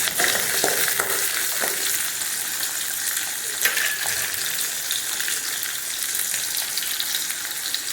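Peeled shallots and large garlic cloves sautéing in oil in a pan for a spicy curry, producing a constant bright sizzle with a few stirring knocks early on, no voices.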